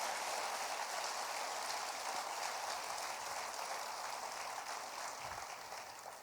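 A church congregation applauds during a Christian sermon, a dense, continuous wash of many hands clapping that holds steady for several seconds, then fades slightly toward the end.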